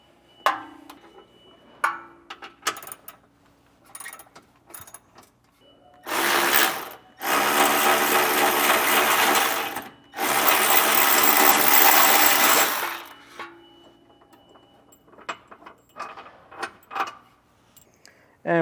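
A torque wrench ratchets to loosen a trailer hitch bolt under a 2024 Jeep Wrangler during a Curt hitch receiver install. Two long, loud bursts of dense mechanical rasping stand out, with scattered small clicks and taps before and after.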